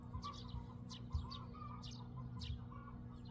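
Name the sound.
chickens clucking in the morning in Seosan, South Korea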